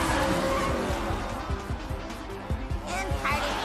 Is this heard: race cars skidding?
yes